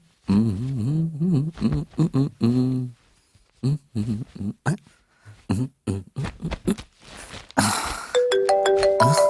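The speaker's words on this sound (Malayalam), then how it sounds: "ഫോൺ" Someone talks for several seconds, then a loud electronic phone ringtone melody begins and keeps playing to the end.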